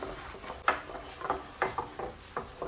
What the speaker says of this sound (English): look at that delicious sauce bubbling